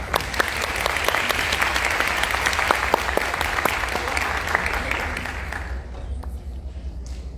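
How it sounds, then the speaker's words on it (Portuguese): A seminar audience at a psychology-in-education talk at Unip applauds loudly to welcome the speaker, a dense crowd of clapping hands that thins out and fades after about five and a half seconds. "Uma salva de palmas para a Roseli Caldas."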